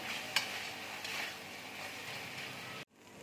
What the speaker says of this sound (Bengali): ভালো করে আমি কষে নেব